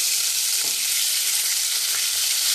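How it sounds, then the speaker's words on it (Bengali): Hilsa fish pieces frying in hot oil give a dense, steady hiss and crackle, close and constant, with no talk. "এই যে তুলে নিয়েছি, সবগুলো ভেজে তুলে নেব"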